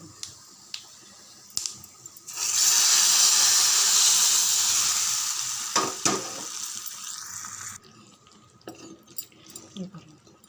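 Spices temper in hot oil for a Tamil fish curry, a loud bright sizzle that erupts suddenly, holds for several seconds, then fades, with scattered clinks before and after.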